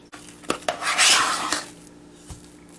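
A spoon clinks and scrapes in a bowl while milk is stirred into freshly riced mashed potatoes with cream cheese, a few sharp taps followed by a soft, wet churning swirl, close by and alone.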